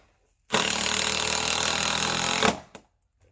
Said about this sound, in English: Which this DeWalt driver has such torque on it, it'll overdrive these screws really easy.